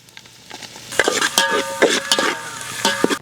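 Onions and green chillies fry in a pan while being stirred, giving close, bright sizzling with several sharp scraping strokes over about three seconds.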